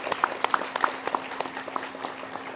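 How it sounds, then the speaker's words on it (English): Scattered, fairly sparse clapping from an audience at a university international studies hooding commencement, distinct individual claps fading over a couple of seconds. "So let's give them a round of applause."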